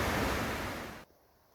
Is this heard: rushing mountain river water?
yes